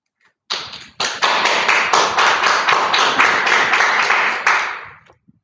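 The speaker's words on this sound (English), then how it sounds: "clapping." A small audience at a poetry night claps together for a few seconds, close, sharp and sparse rather than a big roaring ovation, starting abruptly and tapering off.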